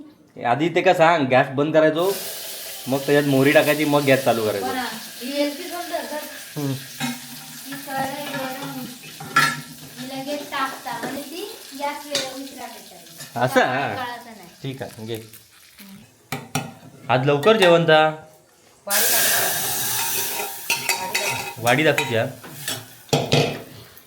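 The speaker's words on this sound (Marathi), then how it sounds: "हां बघ आवाज येलो हो फोडणीचो" Hot oil crackles and sizzles as spices temper in a hot kadhai, with stirring and clinks of cookware while people talk over it.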